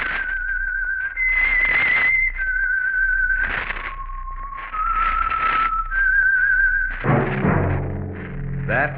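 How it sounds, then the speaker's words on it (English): Distinctive whistled theme tune, a rising and falling melodic line with long held notes against orchestral backing, from the old-time radio mystery show The Whistler sponsored by Signal Oil, ending in a swell of music. "That whistle is your signal for the Signal Oil Program, The Whistler"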